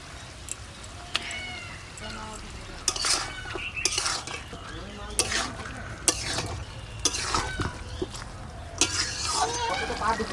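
Mutton cooks in a pan with salt, turmeric and ginger-garlic paste. A utensil clatters and scrapes against the pan in irregular bursts over a low, steady sizzle.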